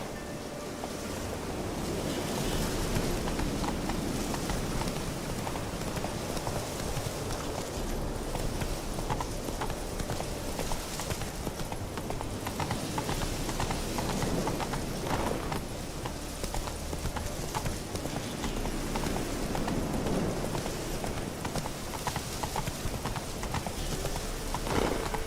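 Horse hooves galloping in the video game The Witcher 3, a continuous fast clip-clop rhythm over a steady wind-like ambient bed, moderately loud and unbroken throughout.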